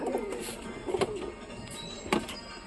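Giribaz pigeons in a loft give soft, low cooing calls, a few brief throaty bursts spaced apart, close and faint with no talking.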